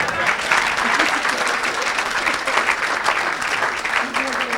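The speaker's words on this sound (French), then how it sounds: "Acclamons le Seigneur." A church congregation applauds the Lord during a service, with steady dense clapping from a crowd that carries on without a break, mixed with faint voices.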